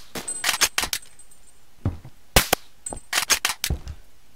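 Sharp bursts of gunfire in the Roblox shooter Phantom Forces, loud and close, coming in quick clusters of rapid cracks separated by short pauses, with no voices.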